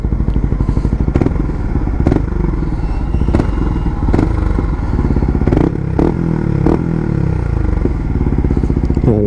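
A Yamaha MT-15 motorcycle engine idles and runs steadily up close, a dense throbbing rumble with a few revs and mechanical clatter throughout, no talking.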